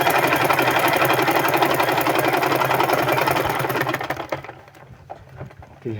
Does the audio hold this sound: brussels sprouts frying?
no